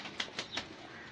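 Pigeons flap their wings in three quick, soft bursts of fluttering, close by against a steady background hiss with no voices.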